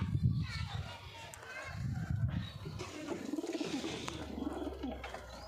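Pigeons coo steadily inside their coop, a run of low, throaty, repeated calls close by, with faint voices in the background.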